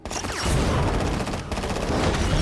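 Gunfire from a played video, a dense, loud fusillade of rapid shots running continuously, with a brief break about halfway through before the firing resumes.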